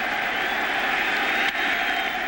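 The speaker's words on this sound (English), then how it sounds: "And the crowd's on their feet." A baseball crowd at a Subway Series game between the Yankees and Mets roars steadily, a broad, continuous wash of cheering with no breaks and no voices standing out.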